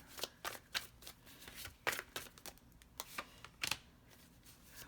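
Tarot cards being drawn and flicked from a deck, a string of sharp papery snaps and slides in irregular bursts, close and crisp in a quiet room.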